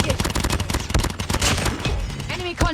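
Rapid automatic fire from the GKS gun in the Call of Duty Mobile video game comes as a dense, loud burst of shots, with a voice talking over it near the end.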